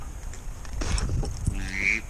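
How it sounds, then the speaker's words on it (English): Mallard ducks make a few short, hoarse quacks and calls in the open during a late-season duck hunt, moderately near and mixed with rustling and faint background noise. "Them are mallards."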